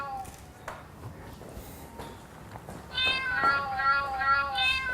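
A voice imitates cat meows, soft short mews at first, then a longer high, wavering yowl like a cat in heat.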